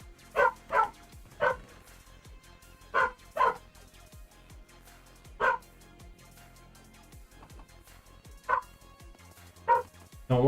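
A loud female dog barks repeatedly in pairs and single yips, the sharp barks recurring every second or two with brief gaps between them.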